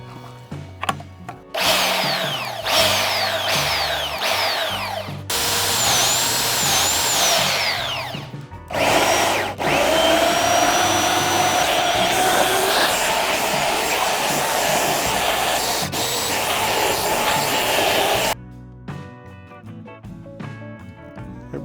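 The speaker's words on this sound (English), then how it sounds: "running a powered belt sander could be so exhausting" A powered belt sander with 50-grit paper whines loudly in long bursts against a wood deck, pausing briefly between passes, then stops and leaves quieter background sounds.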